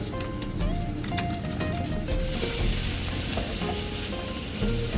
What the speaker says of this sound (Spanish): Y lo vamos a dejar que se vaya cocinando y de vez en cuando revolvemos.